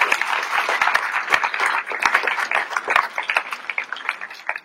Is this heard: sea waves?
no